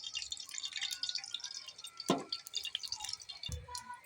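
Cooking oil poured into a pan for a beef brain fry, a soft liquid trickle with faint drips and splashes, a slightly louder splash midway and a low thud near the end, no speech.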